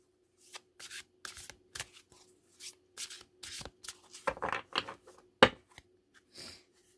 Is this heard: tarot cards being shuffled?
yes